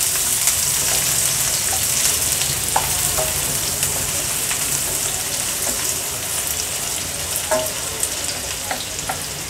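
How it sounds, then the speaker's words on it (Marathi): Finely chopped onion fries with bay leaf in hot oil in a pan, a loud, steady sizzle with scattered pops and the scrape of stirring, no voices. "कांदा थोडा तेलावर परतून घ्यायचा आहे।"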